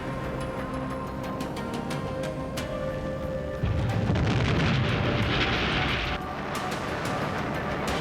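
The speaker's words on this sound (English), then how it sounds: "After the V-2's successful test launch, Hitler ordered its full production" A V-2 liquid-oxygen and alcohol rocket test launch roars as a loud broadband blast of sustained rushing thunder, swelling abruptly mid-way under a droning background and then easing back, with no voices.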